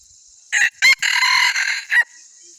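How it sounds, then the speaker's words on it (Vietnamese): A yellow-cheeked S1 jungle fowl rooster crows close by, one loud multi-part call with a short opening burst, a sustained middle and a clipped final note, heard alone without talk. "đây là gà rừng S1 của mình"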